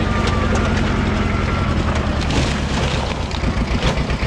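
Engine of a Bull-Chargeur BC 30 loader running close by, a loud continuous rumbling drone with slight fluctuations and no speech.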